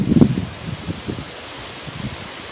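Garden leaves rustle in gusts of wind on a summer day, with soft irregular swishes and a constant breezy hiss.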